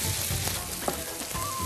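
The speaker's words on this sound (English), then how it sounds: "Our onions are caramelizing up beautifully." Onions caramelizing in a pan give a steady, close sizzle with a few soft stirring scrapes, fairly loud and with no voices.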